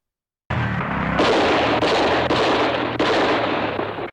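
Loud, continuous battle gunfire and booming explosions from a 1980 film battle sequence, a dense roar with repeated heavy blasts and no talk.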